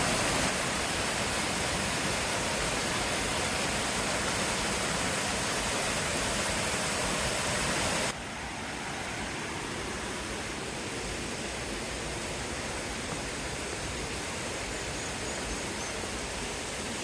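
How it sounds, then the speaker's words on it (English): Waterfalls at Hardy Falls in Beacon Rock State Park, a dense constant roar of falling water with no breaks, loud and close, dropping a little in level partway through. "it does put you in the middle of this beautiful spot with waterfalls all around you"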